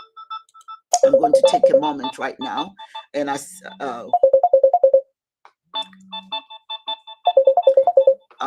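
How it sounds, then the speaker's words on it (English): A phone ringtone for an incoming call plays in repeated short melodic bursts, clear and close, alternating with someone speaking between the rings. "I'm getting a phone call."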